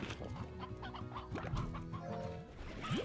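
Rooster clucking in the video game Slime Rancher, a steady run of short clucks and squawks with a rising call near the end, fairly close and loud over a busy game soundtrack.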